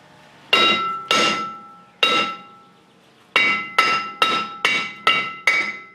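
Hammer blows ring out against a nut threaded onto the wheel bearing hub of a Subaru Forester, nine sharp metallic strikes in uneven bursts, loud and close with ringing decay.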